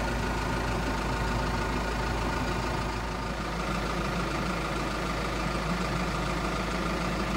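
A tractor engine drones steadily and loudly close by while its bucket lifts solar panels, an unbroken low idle-like rumble with no pauses or speech.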